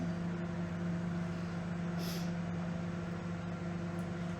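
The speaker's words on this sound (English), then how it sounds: "making milk warm in the microwave right now" Microwave oven warming milk, a steady low electrical hum with fan drone running continuously, quiet and close, with a faint brief click partway through.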